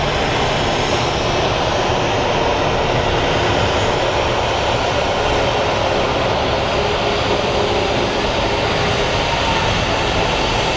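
A passing airliner painted in PSA retro livery at Phoenix Sky Harbor International Airport, a broad, steady engine roar that fills the whole stretch without letting up, close and loud, with no voices over it.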